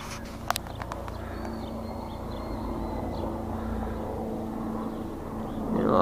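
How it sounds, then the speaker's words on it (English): A helicopter passes overhead above Bellevue Square Park in Kensington Market, Toronto, a steady distant drone that swells louder toward the end amid faint outdoor ambience. "A little helicopter action up there, orange."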